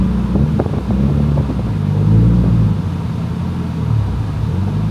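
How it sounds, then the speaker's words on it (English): A rear-wheel-drive sports car pulls away in third gear, a low engine rumble and lugging drone that swells slightly as it moves off, close and steady without talk. "Let's try to pull out in third and see if it's gonna stall."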